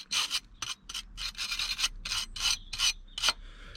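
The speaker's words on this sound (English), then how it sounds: "I'm using sandpaper quickly and give that a little sanding." Sandpaper scrubbed by hand over a seized bolt shaft on a Mercedes W126 560SEL, a series of quick, rasping back-and-forth strokes in short bursts, close up and fairly loud with brief pauses between.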